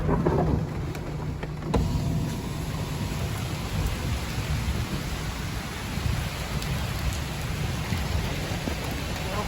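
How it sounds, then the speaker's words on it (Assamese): Heavy rain pours steadily at night, a dense continuous hiss with a faint low rumble of thunder, loud and close throughout with no talk. "কি বৰষুণ"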